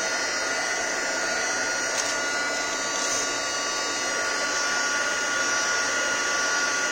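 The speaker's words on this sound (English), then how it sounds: "I'm just going to run my heat tool over the top of it." A heat tool blows hot air over a craft project, a steady loud rushing hiss with a constant high whine that holds unbroken throughout, with no talk.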